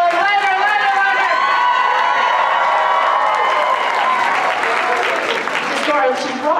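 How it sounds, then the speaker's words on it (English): A convention crowd at a gaming event panel with video game voice actors claps and cheers loudly, with whoops and shouts over steady applause that keeps going for several seconds and swells toward the end. "Guys, round of applause."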